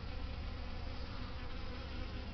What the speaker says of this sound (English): that little bee at the top of, well, this little bee right there